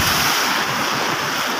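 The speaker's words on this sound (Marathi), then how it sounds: "लय बेकार लय गारटलो. वारा पाऊस." Heavy monsoon rain driven by wind in a village, a loud, continuous hiss and roar with no gaps.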